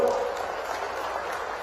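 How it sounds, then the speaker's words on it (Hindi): A crowd applauds to welcome Chief Minister Mohan Yadav at a forest committee and tribal gathering in Harsud village, Khandwa. The clapping is a dense, steady wash that holds evenly for under two seconds, with faint voices mixed in. "एक बार जोरदार ताली देकर स्वागत करें।"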